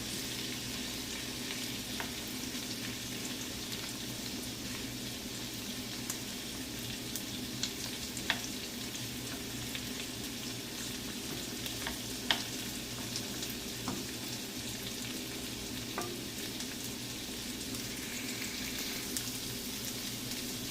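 Onions and mushrooms sauté in a hot pan with a steady, close sizzle and crackle that runs unbroken throughout, with only a few faint clicks of stirring and no voices.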